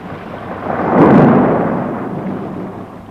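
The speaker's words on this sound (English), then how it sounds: "The storm. She is passing." A deep thunder rumble from a passing storm swells to a peak about a second in, then slowly fades over a steady broadband wash, with no voices.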